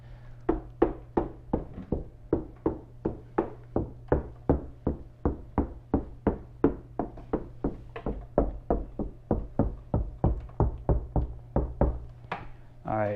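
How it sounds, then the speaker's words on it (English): Knuckle taps on a bare exterior car door skin, before any sound deadening is applied, land in an even run of about thirty close, distinct knocks. Each one rings briefly over a faint steady hum. "I could tell where deadener had been applied to this exterior door skin based on the sound that I heard as I tapped on it"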